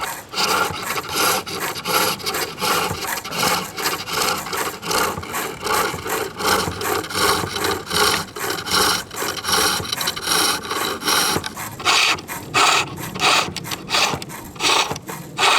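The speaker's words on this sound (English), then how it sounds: "I'm forming the handle now, so I just made that cut with the spindle gouge" A spindle gouge cuts wood on a lathe while forming the handle of a spinning top, producing a loud, rapid rhythmic rasping and scraping that pulses steadily throughout, with a sharper, choppier stretch near the end.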